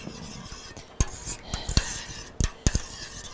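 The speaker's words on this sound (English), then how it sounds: "Stir it up." A spoon stirs half and half into a pot of pureed soup, giving a few sharp clinks against the pot over a soft, steady scraping background.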